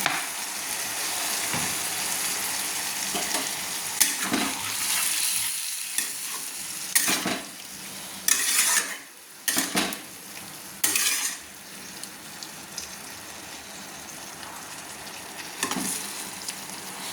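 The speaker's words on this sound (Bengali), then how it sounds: "বরবটি আলু রান্না করার জন্য আমি দিয়ে দিলাম খুব সামান্য জল।" String beans and potatoes cooking in a pan with a little water, a soft continuous sizzle broken by repeated scraping stirs and metallic clinks of a spoon against the pan, no talking.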